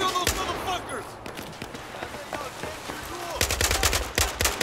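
Gunfire rattles through a Battlefield 4 campaign firefight in Shanghai, with scattered shots early and a dense, loud automatic burst near the end, mixed with game voices and other battle noise.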